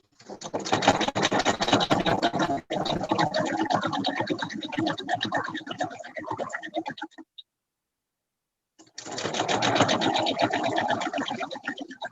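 A home sewing machine stitches a fabric face mask, its needle running in a fast, steady mechanical clatter with a brief pause near the start, then stopping for a few seconds of silence before starting up again.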